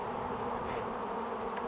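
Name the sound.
swarm of honey bees buzzing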